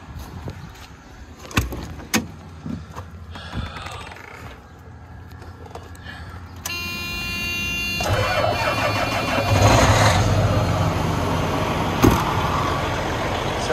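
A big semi truck engine cranks and catches, settling into a loud, rumbling idle that grows heavier partway through, heard up close with no talking.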